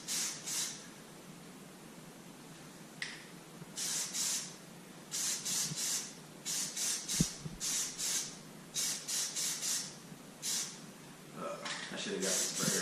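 Short bursts of Plasti Dip aerosol spray hissing onto Corvette wheels, repeated in an uneven rhythm of brief and longer blasts with pauses, close and fairly quiet, alongside some handling noise.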